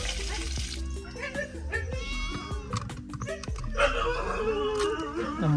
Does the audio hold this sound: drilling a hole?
no